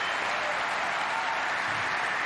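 Snooker audience at the German Masters final clapping steadily after a century break, a dense, even round of applause with no voices over it.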